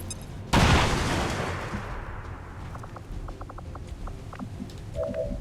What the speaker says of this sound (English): Drop a grenade on the engineer.